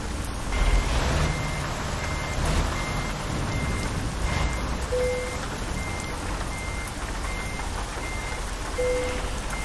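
A truck backs up to a trailer on a rainy morning, its reversing alarm beeping in a steady, evenly spaced series over a continuous engine rumble, with no talking.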